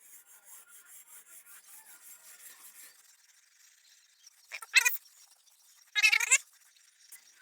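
Very fine steel wool rubbed over a jungle machete blade during rust and bluing removal gives a few soft, close scrubbing strokes early on, then two short, louder bursts of harsh abrasive rasping.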